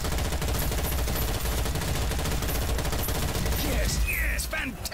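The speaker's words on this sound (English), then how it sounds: "Yes, yes, fantastic shooting!" Rapid, sustained automatic gunfire from shooting in the video game Strange Brigade, a dense rattling barrage at close range that keeps going, with a few voice-like sounds rising near the end.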